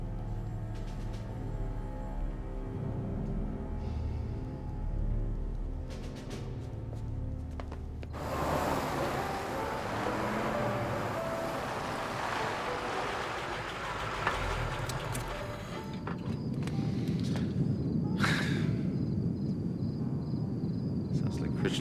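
An Orenda Iroquois jet engine runs on a test stand, first heard as a low, distant rumble under other sounds, then surging into a broad, roaring whoosh that stays loud and steady to the end.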